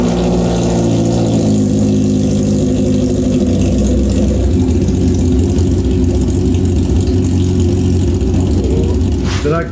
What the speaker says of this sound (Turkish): Drag makinesinin nasıl çalıştığını gördünüz